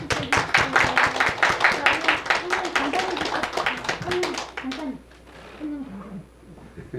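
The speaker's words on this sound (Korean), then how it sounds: "박수 쳐주세요." A church congregation at a Sunday morning service claps in a quick, steady rhythm for several seconds with voices mixed in, then the clapping fades and talk continues quietly.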